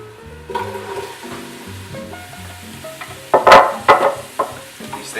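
Vegetables hit a hot pan of sweating spices for pasta fazool, bursting into loud sizzling and stirring after a quieter stretch with background music, the frying noise swelling in bursts toward the end.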